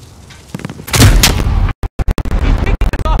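Gunfire in Call of Duty: Modern Warfare during a highway firefight, with loud shots and booming blasts building into a dense burst, then a string of sharp separate gunshots in quick succession.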